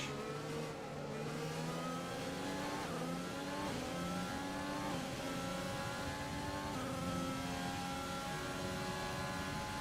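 An F1 car engine in the racing game F1 2020 howls at high revs, climbing and dropping through gear changes in a continuous sustained whine.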